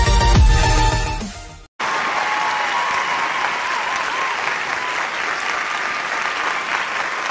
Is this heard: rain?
no